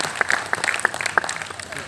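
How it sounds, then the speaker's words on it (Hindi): A short burst of lively applause, many hands clapping together at close range at a constitution fair in Raigarh, India, with a voice faintly mixed in. "जितने लोग कहे हैं उनके लिए जोरदार तालियां।"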